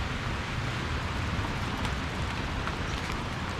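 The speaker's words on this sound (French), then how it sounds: "Petit camping, côte Caraïbe, arrivé sous la pluie." Steady rain falls at a small campsite on Costa Rica's Caribbean coast, a dense, even hiss with no pauses, near and moderately loud, without voices.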